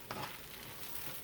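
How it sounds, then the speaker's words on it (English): Lentils and vegetables sauteing in a pot on the stove, giving a faint, steady sizzle and crackle for a brief moment with no voices. "I'll let this saute for another minute."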